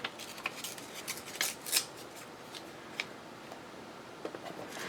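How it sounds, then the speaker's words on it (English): Scrap paper is torn by hand in short, crisp rips and crackles, a few separate bursts close by and fairly quiet, without speech. "Another piece of Medieval Mirage scrap that I have. And I'm going to just tear it again."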